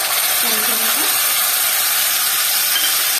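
Ground tomato paste hits hot oil in a pan while fish curry is being made, producing a loud, continuous frying hiss with a faint voice briefly underneath, ending abruptly.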